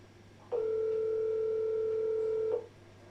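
A Viber call rings out on a phone as a single steady electronic tone lasting about two seconds, clear against quiet room hum.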